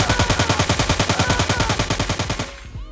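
Rapid automatic gunfire from a browser shooting game with assault rifles, shotguns, pistols and miniguns, a loud continuous burst of evenly spaced shots lasting about two and a half seconds before cutting off into a short ringing tail.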